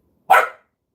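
A pet dog, a young female puppy, gives a single sharp bark, close and loud, with silence on either side.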